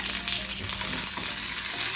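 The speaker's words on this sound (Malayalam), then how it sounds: "അപ്പം നമുക്ക് അതിലേക്ക് ഇച്ചിരി കറിവേപ്പില ഒന്ന് കൈ കൊണ്ട് ഞെരടി അങ്ങോട്ട് ഇട്ട് കൊടുക്കാം" Crushed curry leaves dropped into hot oil after mustard seeds have popped, giving a loud, dense, close sizzle and crackle that runs steadily for a couple of seconds with no voice.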